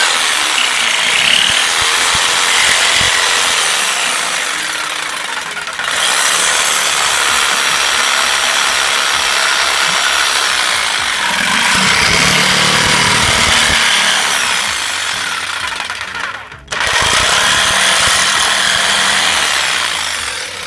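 A DeWalt jigsaw cuts small letters out of MDF board, a steady rasping buzz that runs close and loud with brief pauses and restarts between cuts, and no talking.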